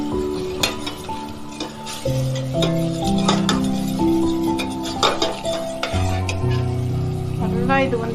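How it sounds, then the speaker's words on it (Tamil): Beef sukka green masala simmering in a pan, with the spoon clinking and scraping against the metal as it is stirred, under steady background music; close and fairly loud. "நல்லா ஒரு 5 நிமிஷம் நல்லா கொதிக்க வைங்க."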